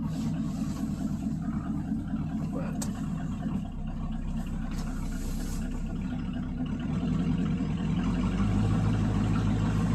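A 2002 Ford Ranger fitted with a 351W V8 idles steadily with a low, rough, slightly uneven rumble that swells near the end, and a voice talks over it.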